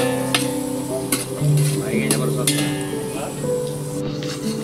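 Onion sizzles while being sautéed in a pan, with repeated scraping stirs and clinks of a spoon against the metal, set against outdoor ambience.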